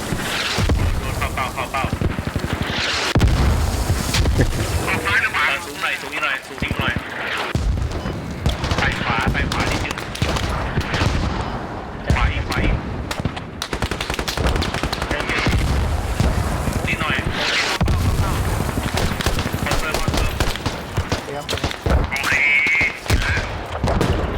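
Rapid bursts of gunfire and explosions from the video game Squad, nearly continuous, with a voice talking over the action.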